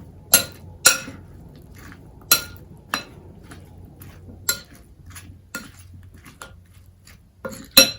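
Fruit chaat being mixed in a bowl at home, with a spoon knocking and clinking against the dish in about a dozen sharp, close taps spaced unevenly, each standing alone over a quiet background.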